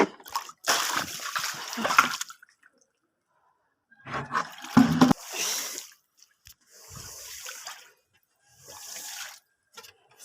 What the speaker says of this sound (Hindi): अब मैं ये इस पर पानी डालूंगी, साफ़ पानी।